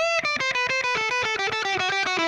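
Distorted electric guitar plays a solo, a fast stream of picked notes with bends and triplet runs descending in pitch, loud and close with no voices.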